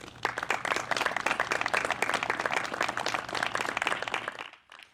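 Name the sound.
round of applause for board members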